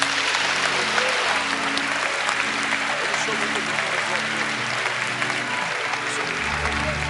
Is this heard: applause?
yes